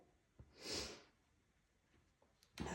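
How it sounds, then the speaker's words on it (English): A single nasal sniffle from a runny nose rises and fades, quiet and close, followed by another short snuffly breath near the end, with a faint tap early on and no talk. "My nose is a little bit runny. I keep sniffling."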